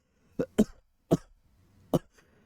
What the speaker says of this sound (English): that was a genuine cough from yelling at Miku